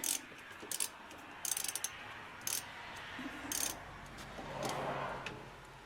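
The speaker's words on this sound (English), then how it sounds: "Put the ratchet on there." A ratchet turns a 17 mm nut on a hub bolt while a Traverse's rear bearing hub is being replaced, giving close, rapid bursts of clicking separated by short pauses, with no talk.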